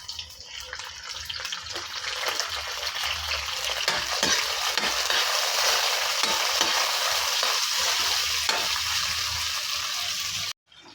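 Onion and tomato sizzling and frying steadily in a pan, a dense continuous hiss with occasional stirring scrapes, close and loud, no talking, ending abruptly.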